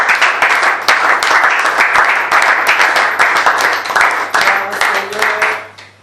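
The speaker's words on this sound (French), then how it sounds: "Est-ce qu'on peut acclamer?" A church congregation breaks into loud, sustained applause, with many hands clapping fast and fairly close before it fades toward the end.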